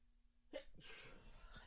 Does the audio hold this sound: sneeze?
yes